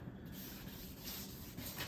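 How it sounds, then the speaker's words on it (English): Steady abrasive rubbing of sandpaper against the clear coat on a Yamaha G29 golf cart part, continuous and close, with a faint scratchy hiss throughout. "You can just really tell when you're actually sanding that clear coat"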